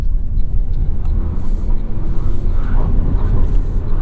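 A 2023 Toyota Prius Prime plug-in hybrid driving in sport mode, a steady dense road and engine rumble heard from inside the cabin, loud and continuous with broadband tyre noise and no talking.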